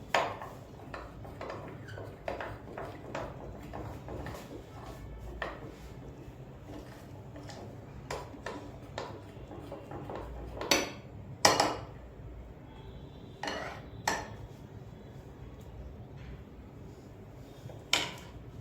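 A spoon clinks and taps against a bowl while mix pakoda batter with chopped coriander is stirred, giving irregular sharp knocks of varying loudness with quiet pauses between them.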